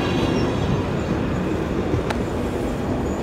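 A brand-new, shiny PESA-built train unit on the Warszawa Wschodnia–Zakopane route, heard as a steady close rumble of rolling stock with no talk over it.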